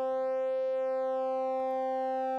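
Sustained synth tone from Bitwig Studio's Phase-4 phase distortion oscillator, a steady, bright harmonic-rich drone with shifting overtones, heard alone without any voice.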